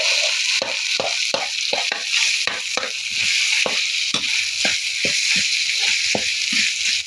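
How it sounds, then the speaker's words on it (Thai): Red curry paste with pounded krachai (fingerroot) stir-fried for hok mok pla chon, a steady loud sizzle broken by rapid, regular scraping strokes of a spatula against the pan, with no talking. "แล้วก็กระชายที่เราโขกไว้นะคะ ผัดรวมกันเลยเป็นเนื้อเดียวกันเลยนะคะเพื่อนๆ"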